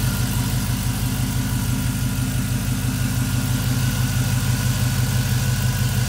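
A Vortec V8 swapped into a 1986 Chevrolet C10 Silverado idles with stainless long tube headers, a loud, close, steady low rumble with an even pulsing beat throughout.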